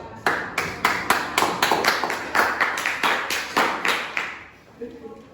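A brief round of rhythmic clapping from a few people, steady and fairly close, fading out after about four seconds.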